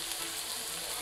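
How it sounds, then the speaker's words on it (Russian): Chopped tomato frying with sautéed onion in a pan for a Spanish-style spinach dish, a steady, even sizzle that holds close and constant with no voices. "В обжаренный лук добавляю нарезанный помидор."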